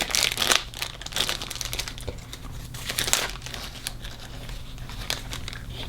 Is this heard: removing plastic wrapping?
yes